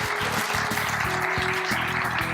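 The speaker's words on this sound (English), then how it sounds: "Get a round of applause for all the first graders." Audience clapping for first graders at a children's poster, essay and video contest awards ceremony, a steady dense patter of applause with a low hum running beneath it.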